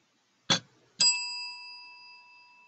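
A small handheld bell gives a soft tap, then one clear ding that rings on with a long, slowly fading tone, close and alone.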